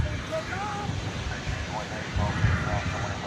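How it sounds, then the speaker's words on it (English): A Boeing 777-200ER airliner at DFW Airport after dark gives off a steady distant jet engine roar with wind noise, while a person talks over it. "That is a 777-200 ER"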